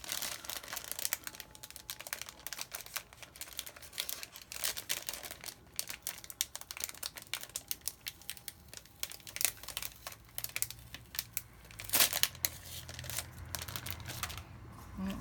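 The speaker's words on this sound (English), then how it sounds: "It's like a sticker that has a frame around it. So let's peel this off of here." A sticker being peeled off its backing frame, giving faint, close crinkling and crackling with sporadic sharp ticks and a brief louder tear partway through.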